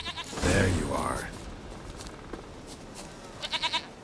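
Goat in the video game The Witcher 3: Wild Hunt, heard as a loud nearby bleat early on, followed by a quieter stuttering bleat near the end over soft game ambience.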